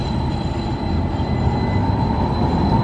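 Milwaukee streetcar running on its rails with a bumpy ride, a continuous close rumble with a thin steady squealing tone above it, no voices.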